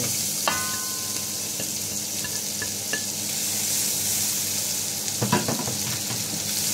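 Garlic and onion sizzle in a hot pan while being cooked for chicken adobo. A steady, loud frying hiss fills the clip, with a few sharp utensil scrapes and clinks against the pan.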